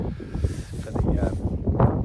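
Strong wind gusting on a Peak District hillside by Ashway Rocks, heavy low buffeting on the microphone that rises and falls across the stretch, close and loud, with no clear talking.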